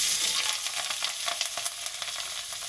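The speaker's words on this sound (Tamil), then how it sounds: "சின்ன சைஸில் 2 பட்டை, நல்ல 2 பெரிய வெங்காயமும் கருவேப்பிலையும் இதில் ஆட் பண்ணுறேன்." Sliced onions, cinnamon pieces and curry leaves sizzle in hot coconut oil, a close, steady crackling fry dotted with sharp pops and spatters, heard alone without any talk.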